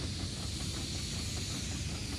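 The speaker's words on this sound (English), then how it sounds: "Garrett steam engine" A 1919 Garrett steam engine at a steam rally hisses steadily. The hiss is a soft, continuous and fairly distant breathy wash that stays even throughout.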